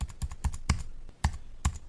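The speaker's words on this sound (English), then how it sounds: "I can hear you typing" Keys clacking on a computer keyboard in quick uneven bursts, sharp close taps with short pauses between them, no talk.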